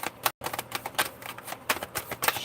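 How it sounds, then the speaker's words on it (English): A tarot card deck being shuffled up close, giving a rapid run of crisp, papery riffles and light slaps in uneven bursts, with no talking. "shuffling that deck"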